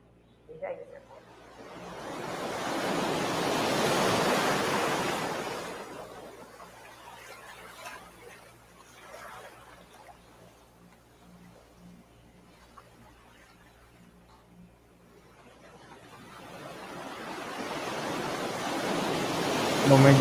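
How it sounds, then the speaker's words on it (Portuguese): Rushing swells like ocean waves washing onto a beach, with a broad surge that rises and fades and then builds again near the end, and quieter low rumbling and faint sounds in between. "Tá parecendo maré na praia. A onda."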